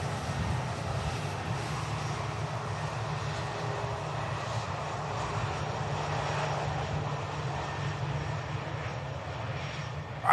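A Ryanair airliner takes off at Manchester Airport with a steady, distant engine roar that holds evenly throughout, with no voices.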